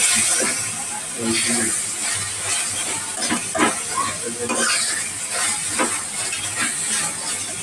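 A spoon works garam masala, coriander powder and turmeric together in a hot pan for chana masala, with loud close sizzling and repeated scraping stirring strokes throughout.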